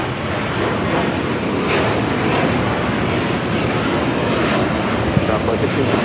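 A Boeing 747 jet airliner roars on the runway at Los Angeles LAX, a loud, broad, continuous rumble that stays even for several seconds, with radio chatter faint underneath.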